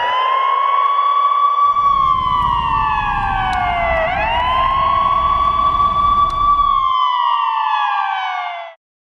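An emergency siren wails loud and close in long rising and falling sweeps, with a rumbling engine beneath it, then cuts off abruptly at the end.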